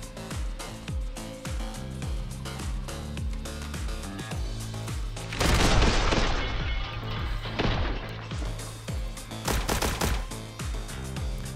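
Rapid bursts of gunfire crackle in quick succession, with a denser, louder volley midway, from the video game The Hong Kong Massacre, with no talking.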